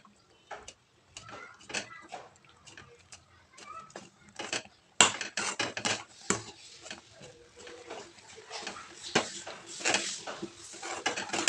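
Roasted semolina stirred into boiling water for upma, a spoon scraping and knocking against the pot in rapid irregular clicks and taps, growing busier and louder partway through, with no talk.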